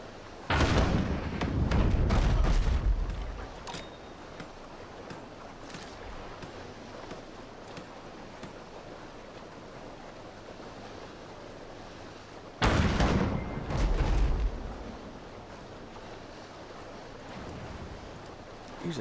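Ship cannons fire in the naval video game Abandon Ship, two separate heavy booming blasts about ten seconds apart, each rumbling for a couple of seconds over a quieter ocean ambience.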